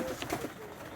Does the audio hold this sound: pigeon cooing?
yes